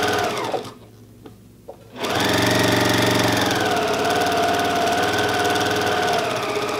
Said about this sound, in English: Now on this side, we're just gonna sew straight up that thing